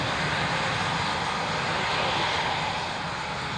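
A military aircraft's engine roars steadily at an airshow on departure day as it taxis to the runway hold point, a loud, broad, continuous rumble with no talking.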